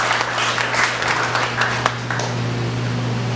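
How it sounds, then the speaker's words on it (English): A church congregation claps in praise during a worship service: steady, moderately quiet clapping over a low electrical hum, easing off toward the end. "Let's give the Lord a clap of praise."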